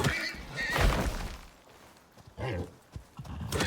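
Horse in the survival game Icarus neighing and whinnying loudly, with hoof clatter and other game sounds following in bursts.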